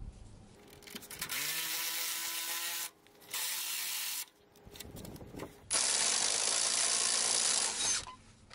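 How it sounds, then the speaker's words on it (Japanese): An impact driver on its lowest power setting, fitted with a chuck, whirs in short bursts with pauses between, ending in a longer, louder stretch of high-pitched whining and rattling. "次はインパクトドライバーのパワーを最弱で試してみます。"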